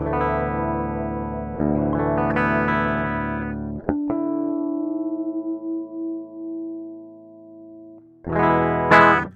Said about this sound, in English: this is my absolute direct guitar sound